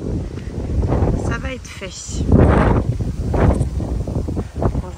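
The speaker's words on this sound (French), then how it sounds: "vous entendez ce vent" Strong wind gusting outside a van in bad weather, a steady broad rush that swells and fades under a person talking close by.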